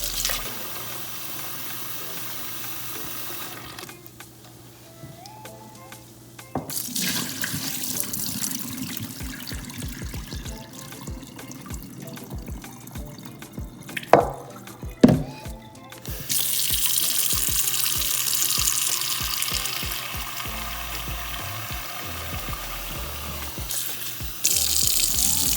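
Running tap water splashes into a sink as saltfish is rinsed clean while preparing ackee and saltfish, a steady close gush that shifts in tone as the stream hits the fish and basin, with a couple of brief knocks partway through.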